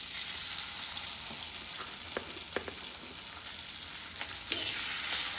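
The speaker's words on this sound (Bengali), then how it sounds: "আমি এখন মাছগুলা ভেজে নিব।" Pabda fish frying in oil in a wok, with a loud, steady hissing sizzle throughout and a few sharp crackles and pops, growing briefly louder near the end.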